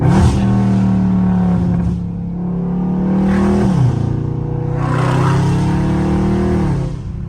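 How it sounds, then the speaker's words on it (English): A Dodge Charger Scat Pack downshifts in sport mode while driving in traffic, its engine revs blipping and rising loud and close. The engine note steps down in pitch twice over several seconds of continuous droning exhaust. "Sport mode, downshifting."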